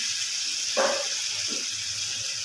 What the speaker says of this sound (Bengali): খুব শুকনো করে ফেললে আবার খেতে অসুবিধা হবে সেই জন্য একদম অল্প একটু জল দিয়ে দেবেন